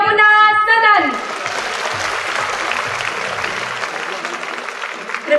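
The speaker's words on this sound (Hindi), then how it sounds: "कृपया तालियों की गड़गड़ाहट से इस सदन की हौसला अफजाई करें।" A school award-function audience claps in sustained, dense applause for Yamuna house, a steady wash of many hands after a brief amplified voice at the start.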